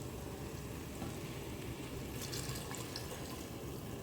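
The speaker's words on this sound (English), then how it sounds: "So we're adding water." Water running steadily into a cooking pot for rice, a continuous faint splashing pour with slight sputters partway through, quiet and close with no talking.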